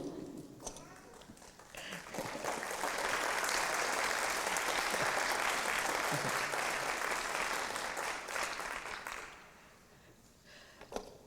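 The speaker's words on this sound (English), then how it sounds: "you don't have to applaud" Audience applause after a poetry reading, a dense sustained clapping that swells, holds for several seconds, then tapers off into a quieter room with a few stray claps at the end.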